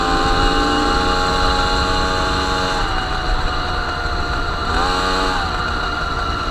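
A small two-stroke MBK 51 moped engine runs steadily up close with a buzzing, droning tone, and its pitch dips and rises briefly twice as the throttle shifts.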